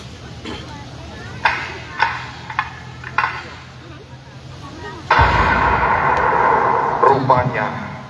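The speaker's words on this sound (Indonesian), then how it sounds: "seorang tentara melepaskan tembakan" During a theatrical reenactment of a Magelang independence struggle scene, a sharp gunshot cracks out, followed by a long loud burst of noise. A few fainter bangs come before it, all heard under a narrator speaking.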